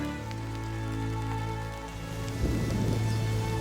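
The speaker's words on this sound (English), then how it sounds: "Outside, the rain lashed against the small window panes" Rain lashes against small window panes in a steady, dense patter that swells in the second half, heard close alongside a soft sustained tonal drone.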